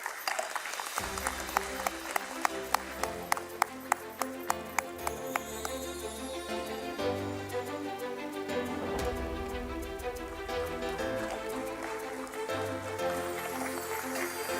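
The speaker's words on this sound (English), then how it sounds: "A big round of applause for him," At a stock exchange listing ceremony, an audience gives a round of applause for a company director. Rhythmic claps tick at first, then the applause blends into loud, prominent music that carries on throughout.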